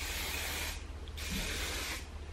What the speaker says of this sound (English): I am now going to spray it down with some hairspray